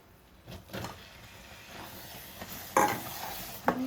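Grated coconut tipped into a pan and stirred with a spoon while making kobbari boorelu, giving soft scraping and a light sizzle, with a couple of sharper clinks of spoon against pan near the end.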